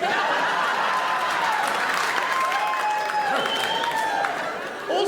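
Theatre audience at a live comedy music show claps in a thick, sustained round, with scattered whoops and chuckles over it, then thins toward the end.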